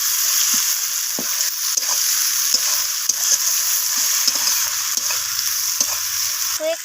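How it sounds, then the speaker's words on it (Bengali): Chopped tomatoes fry with onions in a pan, giving a steady close sizzle with stirring scrapes at intervals. "টমেটোটাকে আমি পেঁয়াজের সাথে ভেজে নিচ্ছি।"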